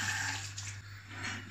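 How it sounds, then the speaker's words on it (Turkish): Water pours steadily from a cooking pot while tripe soup is being made, a continuous close splashing rush with a low hum underneath and no talk. "Ben bunu suyunu dökeceğim de."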